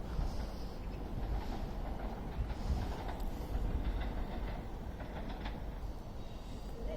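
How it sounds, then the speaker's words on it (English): A train running through Stockport station on the West Coast Main Line without stopping, a steady loud rumble with faint rhythmic wheel clatter lasting throughout, no voices present. "We have a passing train now, not stopping here."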